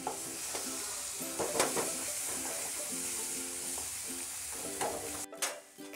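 Green peas kachuri filling frying in oil in a pan, a steady close sizzle with repeated stirring scrapes throughout, then the frying noise cuts out near the end, leaving brief clatters.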